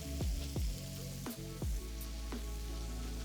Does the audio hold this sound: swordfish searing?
yes